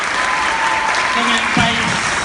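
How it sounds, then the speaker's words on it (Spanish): Audience applause at a university journalism and peace congress at the Universidad de Antioquia, a steady wash of clapping throughout with a voice briefly speaking over it near the end. "un aplauso grande por su compromiso"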